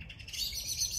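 Birds chirp in a garden, a quick series of bright, high tweets heard at moderate distance, brief and clear with no talking.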